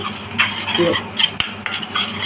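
A spoon scrapes and clinks around a pot as spinach curry masala is stirred and fried. Uneven bursts of scraping sit over a light sizzle, with one sharp metallic knock midway.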